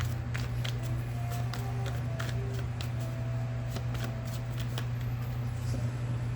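Tarot cards being shuffled close up in a rapid string of crisp riffling flicks over a steady low hum.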